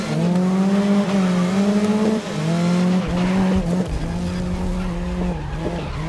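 An Audi RS3 LMS race car in GRID on PS4 during a TC-2 touring event screams loudly and continuously, its engine pitch dropping at gear changes and climbing again, with a hint of tyre squeal.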